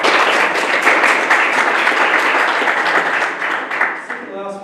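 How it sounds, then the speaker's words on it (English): A school Year 8 BBQ crowd claps for an award winner, dense loud applause filling the whole stretch and thinning slightly toward the end, with some voices mixed in. "Give Sam a clap."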